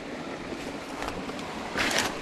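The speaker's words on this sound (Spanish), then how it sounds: "Estamos llegando a la cascada." A waterfall on a mountain stream in Tafí del Valle gives a steady, even rush of falling water, fairly faint and continuous, swelling slightly near the end, with no voices.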